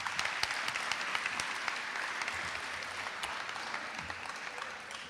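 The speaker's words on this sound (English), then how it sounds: "one more round of applause for Mr. Hackney, Ryan Hackney, coming over." Steady audience applause fills a business honor society induction ceremony, a dense wash of many hands clapping at even loudness from start to finish, with no voices over it.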